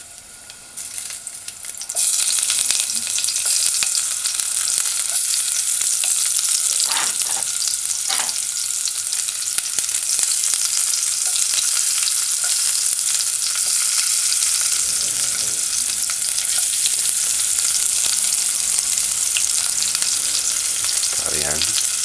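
Chopped onions hit a hot pan for an ackee and red herring dish and fry with a loud, steady sizzle, with a few clinks and scrapes of stirring along the way and no talking.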